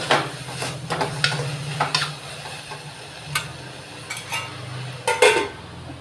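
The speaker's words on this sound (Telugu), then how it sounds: "ఇలా వేయించుకోవాలి ఒక ఏడెనిమిది నిమిషాలు వేయించుకున్న తర్వాత శుభ్రంగా కలుపుకొని" Brinjal and ridge gourd curry fries in a pan, with a low steady sizzle under scattered scrapes and clinks of a spoon stirring against the metal, close by and fairly quiet throughout.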